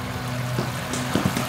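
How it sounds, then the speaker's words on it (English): Water trickles steadily down a low-profile pondless backyard waterfall beside a pool, a soft, constant splashing wash with a few faint knocks over it. "but then we added this waterfall."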